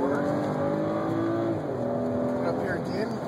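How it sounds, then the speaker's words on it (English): BMW X3 accelerating gently out of a corner on a cone-marked driving course, engine note rising steadily and continuous, heard from inside the cabin with someone talking over it. "Just gently squeezing the throttle coming off the corner"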